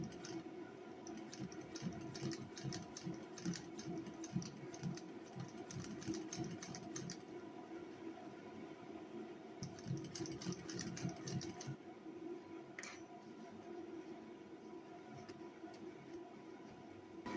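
A sewing machine runs in short bursts of rapid ticking stitches, sewing black thread into a seat upholstery seam from a 2001 Suburban, fairly faint with pauses between runs.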